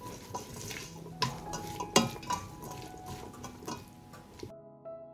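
A spoon stirs soup ingredients in a metal pot, giving irregular scraping clinks and a few sharp knocks against the side over a soft simmering hiss. It stops abruptly near the end.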